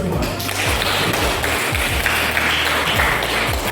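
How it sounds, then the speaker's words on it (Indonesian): A classroom group gives a round of applause during an academic supervision lesson, brisk clapping over low thumps and background noise that carries on throughout. "tepuk tangan untuk kita semua"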